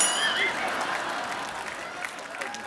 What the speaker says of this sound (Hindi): जोरदार तालियां टाइगर भाई के लिए।